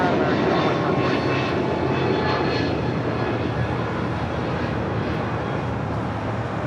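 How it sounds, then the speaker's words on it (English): A Delta Airlines jet airliner arriving at LAX from Nashville roars loud and close, its engine noise pulsing in the first seconds, then settling into a steady rumble as it passes. "Coming in from Nashville, Tennessee, that is Delta Airlines Flight 891"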